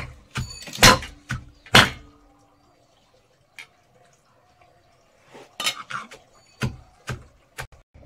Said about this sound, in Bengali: এর মধ্যে এই লাউ পাতাগুলো ভালো করে মিক্সিং করে নেব থেতো করে